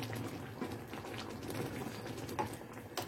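Broth simmering and bubbling in a cooking pot, a steady soft boil with small irregular pops and ticks, close and moderately quiet, with no talking.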